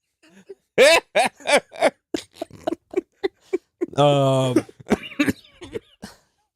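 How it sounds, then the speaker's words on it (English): A run of sharp, repeated coughs up close, broken into short bursts, with a drawn-out vocal sound partway through. "I'm still got the cough"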